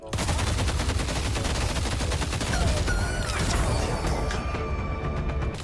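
Automatic gunfire rattles nonstop in the Deadlock video game, with a weapon built on glass cannon and full auto items firing a dense, loud stream of shots layered with impact crashes.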